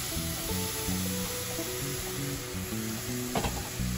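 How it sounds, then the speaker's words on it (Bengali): Semolina rava ladoo mixture sizzling in a pan as a little milk goes in, a steady hiss and stir with a brief scrape near the end, all under continuous background music. "এখন যেটা করছি একটু দুধ দিয়ে দিচ্ছি"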